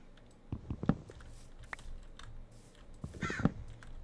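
Crows cawing in the Minecraft video game, two short bursts of harsh calls roughly three seconds apart, moderately close over a quiet, faintly rustling background with no talk.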